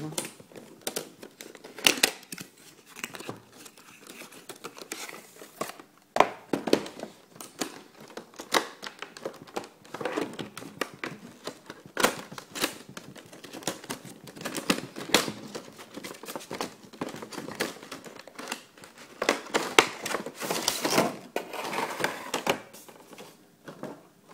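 Packaging for an XP4001 device being opened, with close crinkling, rustling and tearing alongside irregular clicks and taps of handling, continuous and moderately loud with no speech.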